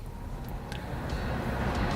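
Air conditioning in a 2020 Mitsubishi Outlander PHEV plug-in hybrid blows inside the cabin as a faint, steady, even hiss of air with no talking.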